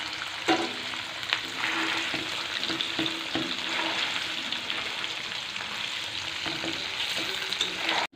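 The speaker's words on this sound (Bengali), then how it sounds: "আমি হালকা যেই পনিরটা ভেজে নিচ্ছি।" Paneer cubes lightly frying in a home kitchen pan, a steady close sizzle with soft crackle and occasional stirring taps, continuous for the whole stretch with no talking.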